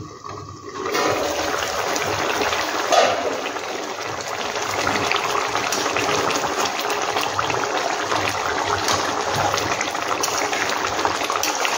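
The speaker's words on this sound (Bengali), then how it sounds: "এবার ফুটে গেছে।" Pabda catfish curry with ginger paste boils in a pan, a continuous close bubbling and rushing hiss that holds steady throughout with one brief louder burst early on, no talking.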